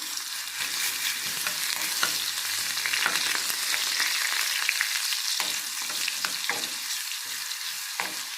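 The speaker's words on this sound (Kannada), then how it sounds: "ಸೊ ಅದಕ್ಕೆ ನಾನಿಲ್ಲೇ ಡೈರೆಕ್ಟ್ ಎಣ್ಣೆ ಒಳಗೆ ಇಲ್ಲೇ ಹುರ್ಕೊಳತ್ತೀನಿ" Green chilli paste fries in hot oil, a loud, constant sizzle broken by scraping stirs and sharp spatters, close and uninterrupted by speech.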